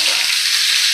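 Pumpkin, potato and green chilies frying in hot oil tempered with nigella seeds, a loud, dense, steady sizzle heard close up and alone for a brief moment.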